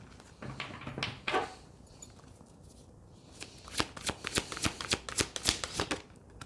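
Tarot cards being shuffled by hand: soft riffles and slides at first, then a quick run of crisp, close card slaps, with no talking.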